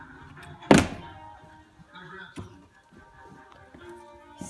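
A plastic water bottle flipped in a trick-shot attempt lands with one sharp, loud thunk near the start, followed by quieter handling noises and faint background voices.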